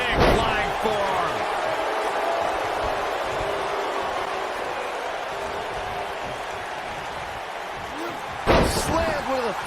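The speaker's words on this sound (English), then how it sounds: "Slammed with authority." A wrestler's body slam in WWE 2K19 lands with a loud thud at the start, followed by sustained arena crowd roar and a second heavy impact near the end.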